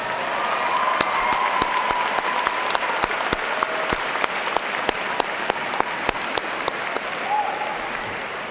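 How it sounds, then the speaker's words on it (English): Applause from the audience at a university spring commencement ceremony, a full, sustained round of clapping in a large hall with a few sharper individual claps standing out, continuing steadily throughout. "I think we should give a big round of applause to Professor Stephen Higginbotham."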